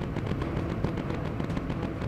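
Rapid bursts of 20 mm cannon fire from an aircraft in the Bomber Crew video game, a dense, steady crackle of shots heard at moderate distance with no talk over it.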